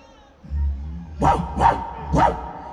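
A performer's voice imitates a dog, giving three sharp, close bark-like yaps in quick succession after a low growling hum, loud and alone.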